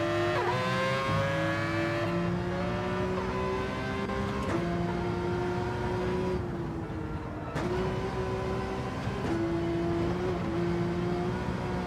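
Porsche race car in Gran Turismo 7 holding a steady loud engine drone, pitch climbing and dropping with gear shifts and revs over a continuous run, no talk.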